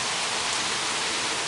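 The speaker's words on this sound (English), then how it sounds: "Rain." Steady rain falling at a camp, a dense even hiss of drops filling the whole moment with no break or talk.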